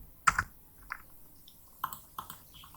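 A value being typed on a computer keyboard during drafting work, heard as a few separate close key clicks: one sharp double tap, a softer tap, then a quick pair of presses near the end in a quiet room.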